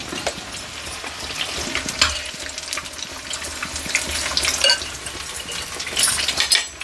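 Egg slice bajji fries in hot oil, a close, continuous sizzle and bubbling with occasional sharper crackles and stirring clinks throughout.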